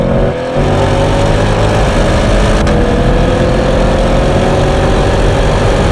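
A Shelby car on a race track roars at full throttle, its loud engine drone climbing steadily in pitch as it accelerates, with a brief dip near the start, heard from inside the car with no talking.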